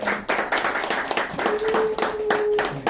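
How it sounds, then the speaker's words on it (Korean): A seated group at an academy course opening ceremony claps in rhythmic bursts of fairly loud, close hand claps, with a faint tonal sound partway through. "박수 한번 해주시죠."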